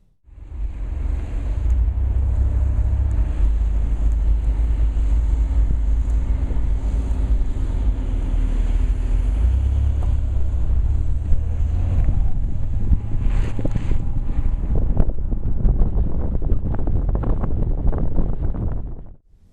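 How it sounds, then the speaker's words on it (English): Steady rushing wind noise around the A-pillars and large side mirrors fills the cabin of a moving 2011 Chevrolet Volt, a constant low roar with faint road hum, growing rougher and more turbulent near the end. "The main noise factors now are actually wind noise coming around the A-pillar in these pretty large side mirrors"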